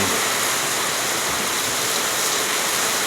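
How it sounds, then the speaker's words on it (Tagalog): Steady rain pours down outside a house, a dense, even hiss of water that holds at constant strength throughout with no voices. "it's raining"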